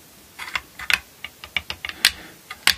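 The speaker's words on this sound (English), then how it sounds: "I'm just going to do the fret level check with the fret rocker." A metal fret rocker tapping on the frets of a Tele-style electric guitar during a fret level check: a string of small, crisp, irregular clicks, close and fairly quiet, with no talking.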